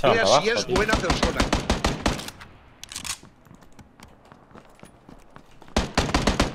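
Rapid bursts of automatic gunfire in PUBG, the battle royale shooter, a loud rattling volley that opens over a voice, pauses, then returns in a sharp closing burst.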